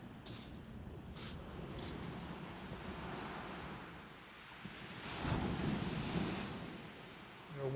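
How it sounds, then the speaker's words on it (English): Waves break and wash over a shingle beach at Salthouse, a steady roar of surf with rising and falling surges, mixed with wind noise buffeting the microphone. "waves are starting to blast to the top of the next little shingle bank"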